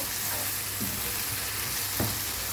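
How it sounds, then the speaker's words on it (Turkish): Tomato paste frying in a pan while being stirred, a dense steady sizzle with a couple of soft scraping strokes, close and moderately loud, no voices. "Evet salçalarımla da şöyle bir karıştırıyorum."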